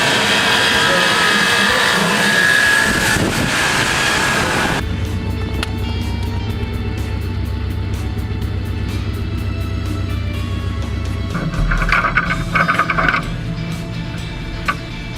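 Derby cars racing in a trailer race, a loud engine roar and crowd-like din that gives way to a steady low engine drone with occasional clatter and impacts.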